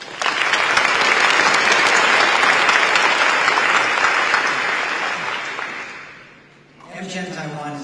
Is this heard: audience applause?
yes